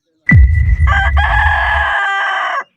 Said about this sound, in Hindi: मुर्गे की आवाज, लगता है सुबह हो गई है